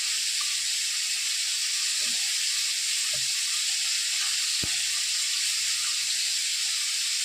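Bhola fish frying in hot oil gives a steady, close sizzling hiss that runs unbroken throughout, with a few faint clicks and pops and no voices.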